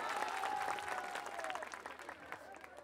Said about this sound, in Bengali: সবাই আরেকবার জোরে করতালি দেই